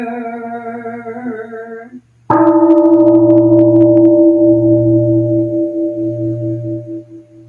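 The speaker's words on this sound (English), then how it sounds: "The sound of the temple bell booms for all to cease from conflict." A single deep temple bell strike rings out after a brief pause, its tone sustaining and slowly fading with a gentle pulsing hum over several seconds.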